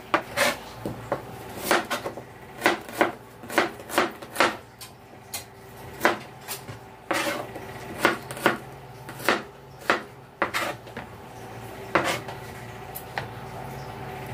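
Onion and garlic chopped on a wooden board for sinigang, a run of crisp knife strikes in uneven bursts, close and fairly loud, with no voices.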